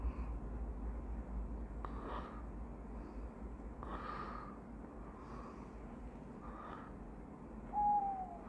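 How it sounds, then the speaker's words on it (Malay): Owl hoots repeat every couple of seconds over a low steady background hum, moderately distant and fairly faint, with a brief higher whistle-like note near the end. "Hari ni saya guna background suara burung hantu."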